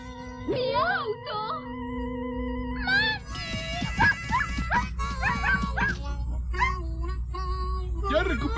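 Cartoon dogs bark, yip, whimper and howl in an excited, overlapping chase, with high-pitched animated voices shouting over them throughout, plus scattered bumps and a steady low background.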